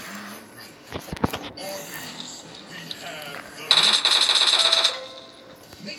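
Rapid automatic gunfire from weapons being tested in the PUBG video game: a few sharp isolated shots early, then a dense burst of about a second of fast repeated fire, with a voice talking over parts of it.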